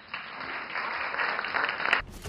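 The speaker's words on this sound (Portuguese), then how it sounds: "Eu quero aplausos." Applause in the video game Primal Carnage: Extinction, a short burst of steady clapping from a group that cuts off abruptly after about two seconds.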